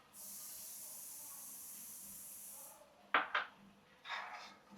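Tomato paste from two medium tomatoes hits a hot pan with spinach gravy for palak paneer, giving a loud, steady sizzling hiss for nearly three seconds that cuts off, followed by a few sharp clanks and a softer scrape.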